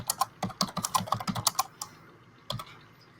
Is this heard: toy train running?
no